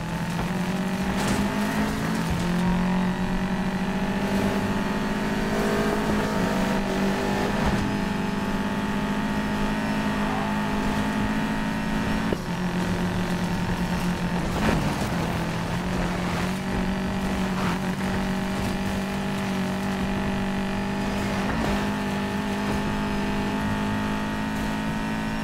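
Race cars in a racing video game roar continuously, with steady engine drone and repeated revving as the cars shift gears and accelerate through the race, loud and sustained without talk.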